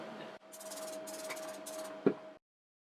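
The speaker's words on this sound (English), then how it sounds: "I'm going to use my Scandinavia Oil Controls Finishing Spray because I have quite oily hair." Oil-control hair finishing spray sprays from a can in three short hissing bursts close to the mic, with a brief clunk near the end before it falls silent.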